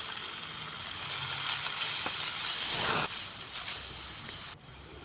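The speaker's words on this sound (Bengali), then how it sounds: "পেঁয়াজ হালকা বাদামি রং করে ভেজে নেব" Onions frying in hot oil in a pan, a steady bright sizzle with occasional stirring scrapes and crackles; the sizzle drops back after a few seconds and then cuts lower near the end.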